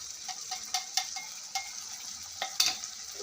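Tomatoes with turmeric and coriander-cumin powder are stirred in a pan, with a few sharp metallic clinks of the spoon against the pan over a faint, steady frying hiss, close and quiet.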